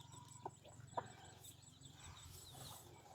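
Chickens kept beside a pond at a makeshift hut cluck in short, scattered calls over steady outdoor background noise, with a sharper cluck near the end.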